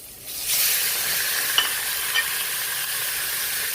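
Onions and pork hit a hot pan and start frying, a sudden loud sizzle that settles into a steady crackling hiss with a couple of brief stirring clanks.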